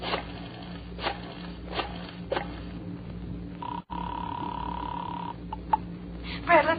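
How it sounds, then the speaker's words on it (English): Telephone dialed seven times in an old radio crime drama, heard as a series of short clicks and whirring dial returns over a steady hum, close and fairly quiet, with a brief tone near the end. "without looking at the phone, I dialed 7 times."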